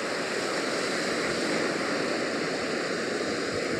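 Sea waves on Betalbatim beach in South Goa make a steady, continuous wash of surf heard up close, with no voices.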